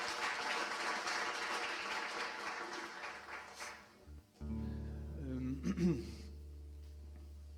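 Applause greets an award winner at a volunteer-of-the-year ceremony, a steady burst of clapping from the audience that fades after a few seconds, followed by quieter hall sounds and low music.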